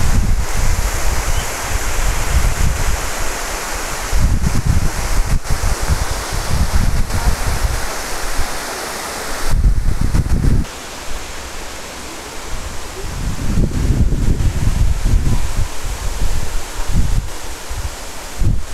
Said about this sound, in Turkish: Giresun Kuzulan Şelalesi bölgesini sizlere çekiyorum.